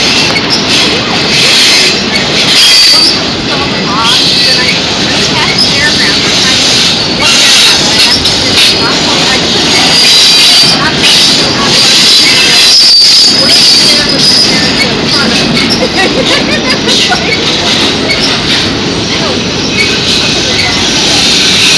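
A freight train with autorack intermodal cars passes close by with a loud, continuous roar of wheels on rail and sustained high squealing, steady from start to finish.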